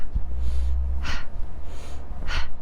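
Two quick, forceful inhales through the nose during Bhastrika pranayama breathing, close to the microphone and about a second apart, with soft breathy noise between them.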